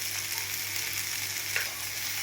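Okra seasoned with Maggi masala fries in a pan, giving a steady close sizzling hiss throughout with one brief scrape of stirring, no voices.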